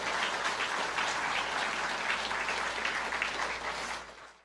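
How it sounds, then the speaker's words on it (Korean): Dense, sustained applause from a crowd at a Korean provincial monthly staff meeting, loud and even throughout before tapering off at the very end. "서로 간에 크게 격려의 박수 부탁드리겠습니다"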